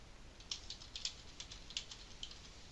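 A commit message is typed on a computer keyboard as a quiet, uneven run of light key clicks, close and alone, about a dozen taps in under three seconds.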